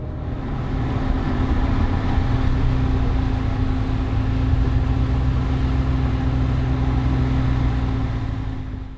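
The engine of a 2016 Cadillac CTS-V runs at a steady, loud drone with a deep low rumble, holding constant from start to finish before easing off at the very end.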